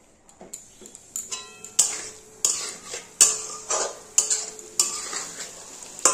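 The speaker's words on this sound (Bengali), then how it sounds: "আস্তে করে নাড়তে হবে।" A spatula pushes rohu fish curry around a pan in slow, regular strokes, each stroke a close scrape and clink over a light sizzle, about a dozen in a steady rhythm; there is no talk.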